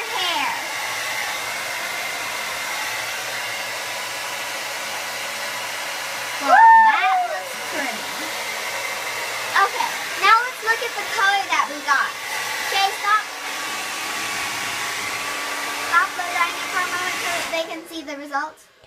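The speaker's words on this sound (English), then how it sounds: "So Shay is blow drying her hair." A hair dryer blows steadily while someone dries freshly dyed hair, a continuous whirring hum close by, with voices speaking briefly over it and the motor cutting off near the end.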